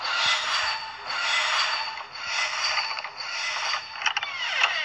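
A door in the horror video game Dungeon Nightmares groans with a loud, drawn-out creak in repeated waves, close and harsh, ending in a few sharper mechanical clicks, with no talk over it.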